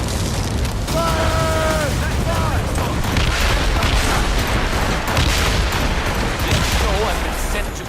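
Naval battle in Assassin's Creed Rogue Remastered, with ship cannons booming in a dense, continuous barrage amid rumbling battle noise, and shouted voices mixed in.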